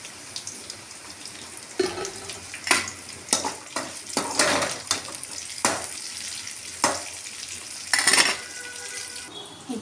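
Green chillies hit a hot pan while mushroom curry cooks, giving intermittent bursts of crackling sizzle and stirring scrapes against a faint oily hiss.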